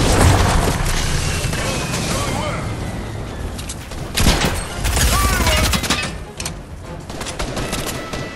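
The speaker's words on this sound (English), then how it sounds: "Why were you shooting your SMG while loading?" Rapid SMG fire in the video game Fortnite rattles through a dense, loud mix of game effects and explosions, with people talking over it.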